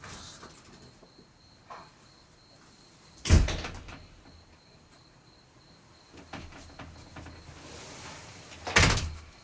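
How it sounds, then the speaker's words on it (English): A door shuts twice, each a sharp, loud thud several seconds apart, with softer knocks and a steady chirp of crickets filling the quiet between. "I want to hear the fucking door close behind you"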